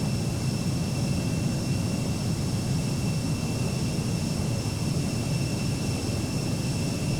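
Steady jet engine roar from an Embraer E170 airliner in the X-Plane 12 flight simulator, a constant broadband rumble with faint high whines, loud and unbroken with no talk.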